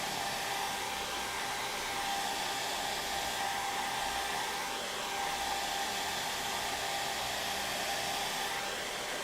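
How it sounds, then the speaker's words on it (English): A hair dryer blows with a steady, close whirring hiss for the whole stretch, used to dry paint on the side of a tank, with no talking over it. "This is where you have to have a hair dryer."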